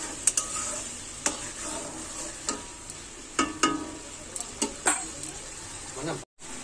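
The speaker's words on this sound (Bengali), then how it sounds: "এই যে দই দেওয়ার পর এরকম ফুটতে শুরু করে দিয়েছে" Yogurt curry gravy for doi katla (fish in yogurt sauce) bubbling in a pan, a steady soft sizzle with scattered stirring knocks and scrapes throughout, ending in a brief silence.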